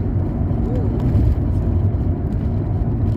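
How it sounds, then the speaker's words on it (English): A car passes on a quiet back road, its low engine and tyre rumble steady and fairly close throughout. "it's an unusual car to see on a back road"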